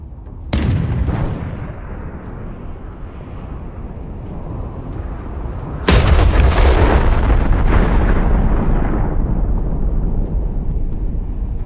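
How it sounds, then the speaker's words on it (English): A Bradley fighting vehicle fires at a Russian T-90M tank in an abandoned village, giving two loud, sharp blasts about five seconds apart, each followed by a long rumbling roar that stays heavy and dense afterward. "The Bradley fires a few shots and changes direction."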